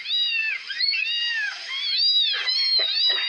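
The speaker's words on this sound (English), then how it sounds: "Newborn kittens, 4 of them." Four newborn kittens mew together in loud, high, wavering cries that overlap steadily and close by, with no talk.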